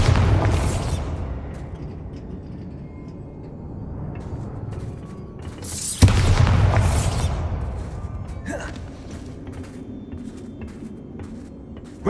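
Bombarda explosion spell from the game Hogwarts Legacy bursting with a loud boom, then a second heavy blast about midway, each trailing off into rumbling debris.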